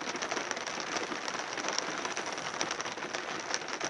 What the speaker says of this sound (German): Und regnet noch.